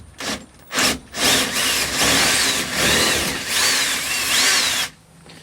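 A power drill bores out the ignition lock cylinder of a Chevrolet C10 truck in a few short revving bursts, then one sustained grinding run with a slightly wavering pitch, loud and close, before stopping.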